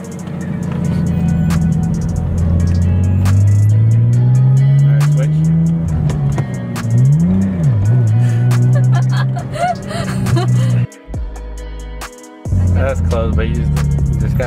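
A BMW E36 with a manual gearbox accelerating as a learner drives stick, the engine droning loud and rising in pitch, dipping and revving again, then cutting out briefly near the end, with people talking inside the car.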